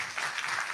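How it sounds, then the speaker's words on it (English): Short burst of applause from a conference audience at a closing plenary, a steady crackle of many hands clapping at moderate distance with no voices over it. "Another round of applause."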